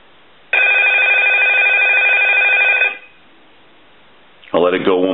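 An original Mickey Mouse telephone's bell rings loudly in one long, steady burst for about two seconds, then silence, then a second ring begins.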